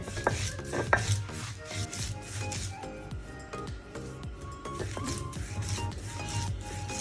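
Soaked lentils ground into paste by hand rather than in a mixer, producing rhythmic close grating and scraping strokes that repeat steadily and loudly.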